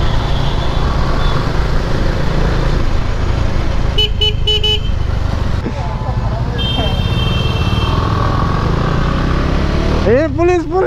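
Bajaj Dominar motorcycle being ridden on a road, a loud steady engine drone with wind rush throughout, horns tooting from nearby traffic partway through and near the end.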